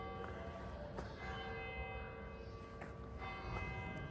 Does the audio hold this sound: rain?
no